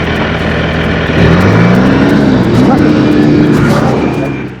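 A vehicle engine strains and revs up a steep snow-covered mountain track near Neelfary meadow, a loud steady drone that rises in pitch as it climbs, heard close by with no talk.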